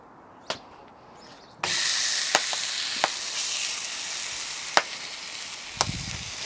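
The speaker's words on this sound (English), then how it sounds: "We should get a nice sizzle, get a nice sear." A steak sizzles and sears on a hot, cleaned steam-engine firing shovel, a steady loud hiss that starts abruptly and holds, with a few sharp pops and crackles.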